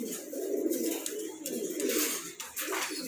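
Red checker owl satin pigeons cooing softly in a loft, a low continuous burbling coo from several birds, fairly faint, with occasional rustles and clicks.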